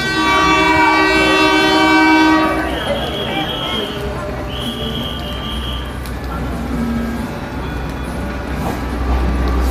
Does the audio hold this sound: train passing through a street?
yes